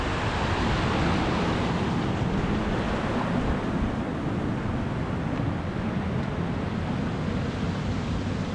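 Roaring waterfall in a wild Scottish landscape, a steady, dense broadband rumble of fast, heavy water that stays loud and unbroken throughout with a little wind buffeting the microphone.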